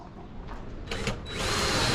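A power drill drives screws through wood supports into a roof truss in a short, close burst that rises to a steady whine near the end.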